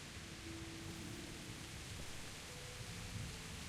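Steady hiss of heavy rain with faint low thunder rumbles in Kingdom Come: Deliverance, a dense continuous wash at low level with no talk.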